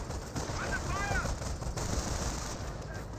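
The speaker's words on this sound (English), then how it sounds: "MG42, we're seeing a bit of fire there." Bursts of MG42 machine gun fire in the game Company of Heroes crackle amid dense battle noise and a scattered whistling effect, with a voice talking over the fighting.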